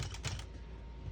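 Keys clack on a 1959 Smith-Corona Skyriter portable typewriter, a quick cluster of close mechanical strikes near the start followed by a quieter mechanical rattle.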